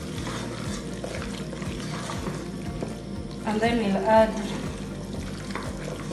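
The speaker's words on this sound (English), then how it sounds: "We'll mix them together." Pre-boiled yellow beans are stirred together in a pot, giving quiet, soft scraping and mixing noises that rise briefly toward the end, with someone talking over them.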